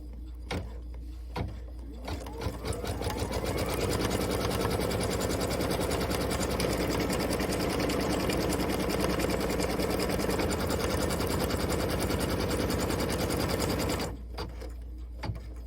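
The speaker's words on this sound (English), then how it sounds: "Let's stitch down our line." Sewing machine stitching a straight line for a pocket in a sew-along project, a fast steady mechanical whir running close and continuous for about twelve seconds after a few clicks, then stopping.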